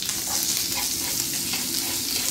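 Garlic and finely grated ginger fry in a pan, a dense steady sizzle heard up close with faint stirring underneath, no voices.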